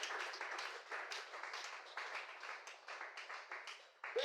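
A church congregation breaks into faint, sustained applause in praise of God, dense overlapping clapping rolling on for several seconds at a distance.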